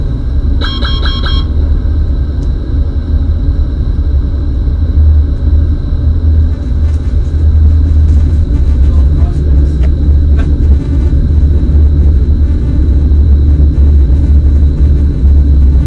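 A Boeing 777-200LR in a full cockpit flight simulator rolls out after landing with thrust reversers engaged, a loud steady low rumble and roar, with a brief beeping alert early on.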